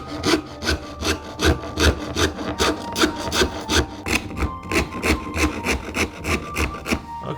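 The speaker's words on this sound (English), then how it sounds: "Now the rasp will take a little bit more time." A wood rasp files the corners off an octagonal wooden pulley in steady, even strokes, about two per second. The rasping is close and loud, and nobody talks.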